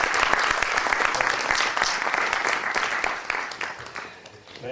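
An audience at an architecture college batch reunion claps vigorously, a loud, dense applause of many hands that runs steadily and fades slightly near the end.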